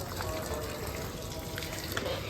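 Water pours steadily into soil in a garden grow bag being prepared for spinach seedlings, giving a continuous gushing wash for a couple of seconds.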